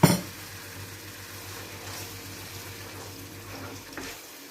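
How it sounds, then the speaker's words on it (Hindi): A small amount of water poured into cooking onion masala for aloo matar anda salan, a steady splashing hiss after a sharp initial hit, close and fairly loud, ending abruptly. "थोड़ा सा पानी डालेंगे ताकि मसाला जले नहीं, प्याज भी थोड़ी सी नरम हो जाए।"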